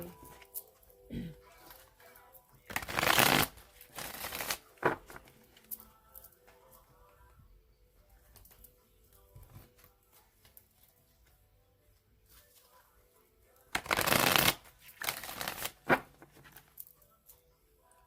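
Two brief, crisp riffling bursts of cards being shuffled, separated by a long quiet stretch with faint handling noises.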